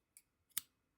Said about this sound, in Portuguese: Posso cortar meu fio